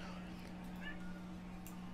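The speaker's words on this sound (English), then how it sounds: "My stupid cat's meowing" A pet cat meows faintly a couple of times, brief high calls rising over a steady low hum and background game noise.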